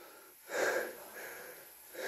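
Heavy, labored panting from a person resting on a steep mountain trail on the third mountain climb, two or three loud ragged breaths in quick succession, close to the microphone with no talk.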